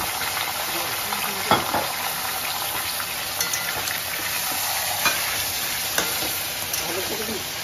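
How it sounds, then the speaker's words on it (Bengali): Mutton pieces for korma sizzle steadily in hot oil in a pan, with occasional scraping clicks as they are stirred, loud and continuous with no talking. "আসলে কোরমার মাটন গুলোকে ভেজে একটু সাদা করে নিতে হয়"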